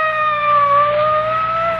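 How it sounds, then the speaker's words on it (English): A police car siren in a radio mystery drama sounds as a loud, steady, high-pitched tone that drifts only slightly in pitch throughout, with no voices. "It's a police car."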